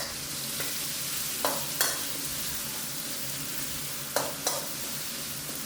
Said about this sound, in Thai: ใส่เครื่องผัดชาลงไปได้เลยครับ ผัดไฟอ่อนไปเรื่อยๆนะครับ